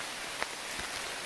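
Rain falls on a wooded trail in a steady broadband hiss, with a couple of faint drops standing out during a short stretch with no talking.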